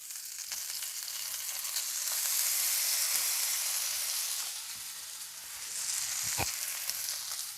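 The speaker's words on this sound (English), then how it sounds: "We're gonna drop our potatoes in the fry pan." Potatoes dropped into a hot frying pan with garlic and tomato, a continuous hissing sizzle that swells and eases, close up, with a few soft clicks and a sharp knock near the end.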